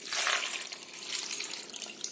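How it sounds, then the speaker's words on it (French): Coconut water pours steadily into a food processor over date paste and hazelnut purée, a continuous close splashing gush with no talk. "J'ai plus qu'à verser l'eau de coco."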